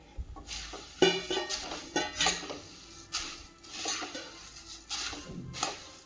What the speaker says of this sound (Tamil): ஆட் பண்ணிவிட்டு பொரியை இதோட மிக்ஸ் பண்ணிக்கலாம்.